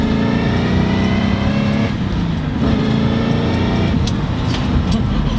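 A restored barn-find 1967 Shelby GT500 rumbles loudly from inside the cabin as it drives, engine note dipping and rising with gear changes through a Hurst shifter.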